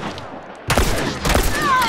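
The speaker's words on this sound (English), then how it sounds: "God, he's got a rifle." Rifle fire in The Last of Us Part II breaks in after a quiet stretch: two loud, close bursts of shots with echoing tails, and a faint whine trailing near the end.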